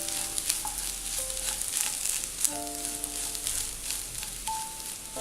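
Wheat flour upma being stirred in a pan, a steady soft sizzle with scraping strokes of the spoon running throughout, close and fairly quiet, with faint tonal hums in the background.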